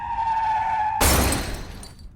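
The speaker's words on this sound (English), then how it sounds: "I just threw glasses against a wall and smashed them" Glass bottles are thrown against a wall in an alley and smash in one sudden bright crash with scattering shards that fades over about a second, following a steady tone.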